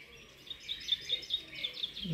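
Small songbirds in an outdoor aviary chirp and tweet in quick, light bursts, faint and somewhat distant, with a steady rustle of background noise.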